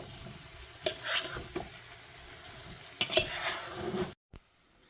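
Fried chicken 65 is tossed in a pan, a soft background sizzle with two bursts of clattering, scraping metal a couple of seconds apart, then silence.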